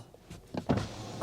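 A BMW iX3's power window motor whirs briefly and faintly, heard up close from inside the vehicle.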